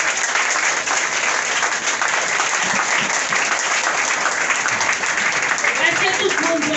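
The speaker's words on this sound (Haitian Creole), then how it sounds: "Sous vos applaudissements, s'il vous plaît." A crowd at a church gathering applauds steadily, sustained clapping filling the room throughout.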